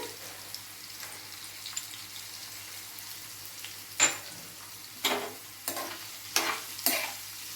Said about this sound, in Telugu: ఇది ఇలా వేగుతూ ఉంటాయండి